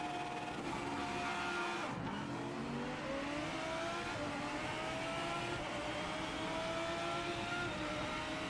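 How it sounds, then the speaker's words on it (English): Race car engines roar in Project Motor Racing, a pack of Audis and Mustangs revving and shifting with rising and falling pitch, loud and continuous, with faint tire squeal. "Listen to the engine."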